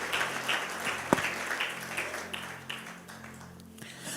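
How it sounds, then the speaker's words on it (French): A church congregation claps, a steady wash of many hands at moderate distance, with one sharp close knock partway through and voices faintly mixed in. "as you clap your hand for this"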